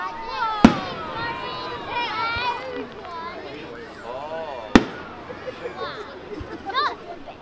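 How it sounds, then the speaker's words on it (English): Two sharp, loud firework explosions at an outdoor fireworks show, one early and one midway, while a crowd chatters and people talk nearby throughout. "What were your thoughts of this fireworks show?"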